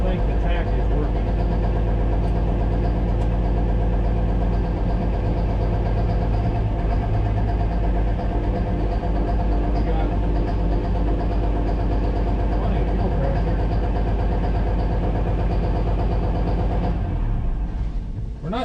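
A 1000 hp Cummins diesel engine runs loud and close with a deep, steady rumbling idle throughout, easing slightly at the very end.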